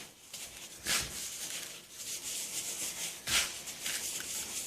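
Damp bath bomb mixture rubbed between the hands to break up clumps, heard as continuous soft gritty rubbing with a few stronger strokes, close and alone.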